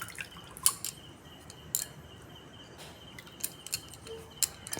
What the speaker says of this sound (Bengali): তেঁতুলের বীজগুলো আমি ছেঁকে নেব